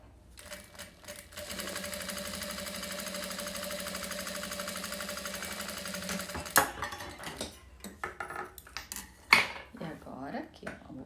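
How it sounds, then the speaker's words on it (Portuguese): Sewing machine topstitching a fabric wallet, a fast steady mechanical whir of needle strokes for several seconds close up, then stopping before handling noises and clicks. "Aqui, ó, vamos pespontar."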